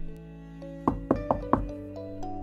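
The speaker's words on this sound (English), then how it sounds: "Suddenly, he hears a knock on the door." Four sharp knocks on a door in quick succession, fairly close and distinct, set against a sustained musical background with no talking.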